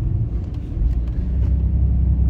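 Interior rumble of a car with the competition package in Silverstone colour driving along, a steady low engine and road drone holding level throughout with no talk.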